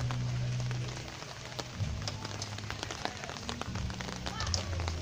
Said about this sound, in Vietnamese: Đây ngoài trời đang mưa đây các bạn này, đang mưa ướt đây